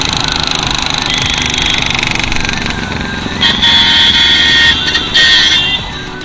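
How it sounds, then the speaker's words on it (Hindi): Loud bike on a road in Uttar Pradesh, India, its rough, rattling engine roaring close by with a steady pulsing thrum that swells louder midway, then eases off as it passes. "ये देखो ये रही बाइक, और भाई क्या लाउड बाइक है यार"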